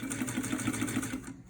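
A 1947 Singer 66 sewing machine stitching a back tack, a steady rapid run of needle strokes, close and loud, stopping abruptly near the end.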